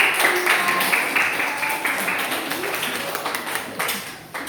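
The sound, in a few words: audience clapping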